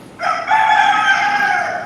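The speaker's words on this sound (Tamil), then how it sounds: "இது பார்த்திங்கன்னா நிறைய சேவல்" A rooster at Kundrathur Murugan temple crows close and loud in one sustained call lasting almost two seconds, heard alone with no talk.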